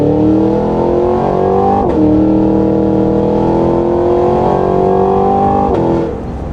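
A 2023 Cadillac Escalade-V driving past houses, its engine roaring loud and close as it climbs through the revs, with brief dips at gear changes before pulling hard again and easing off at the end.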